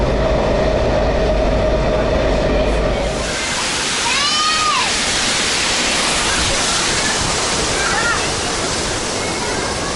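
A Washington DC metro train rumbles along as a loud, steady wash of rolling noise that fills the car, with high squeals rising now and then from the wheels and a voice talking faintly in the background.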